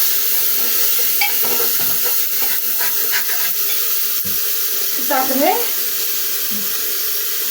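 Mutton masala with fat in a hot pan sizzles and hisses steadily as hot water is poured in, a loud, continuous frying roar with occasional stirring clinks.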